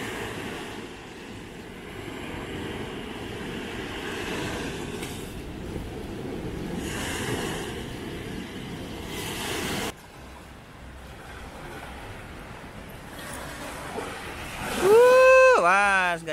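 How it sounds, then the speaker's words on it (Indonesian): Big ocean waves wash and rumble at a beach in a continuous, broad roar that swells and fades, while people talk nearby and a voice rises near the end. "Ombaknya gede."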